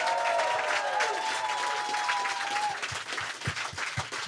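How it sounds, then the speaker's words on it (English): A live comedy podcast audience at Zanies in Chicago claps steadily. The full-room applause stays loud and sustained, and a few sharper individual claps stand out toward the end. "Give them a round of applause."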